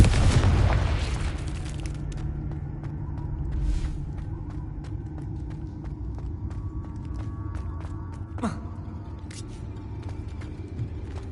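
Confringo fire spells blasting in the Hogwarts Legacy video game: a loud booming explosion opens, then a rumbling burning roar continues with scattered crackles, pops and a sharp burst near the end.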